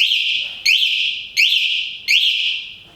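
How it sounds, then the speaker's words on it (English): An e-bike anti-theft alarm sounds indoors, loud and piercing, in three repeating bursts, each starting with a sharp rising chirp then a sustained shrill tone that slowly fades. "I spec'd mine to have the anti-theft alarm system."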